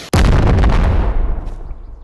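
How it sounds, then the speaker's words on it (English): A single loud, close RPG rocket explosion in the VR game Animal Company bursts suddenly and then rumbles and decays over about two seconds. "This is a normal RPG explosion."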